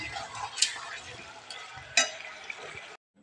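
Chicken sautéing in a pan in a village home kitchen, a soft frying hiss broken by a few sharp scrapes and clinks of a spatula, with faint background voices, then a sudden cutoff to silence.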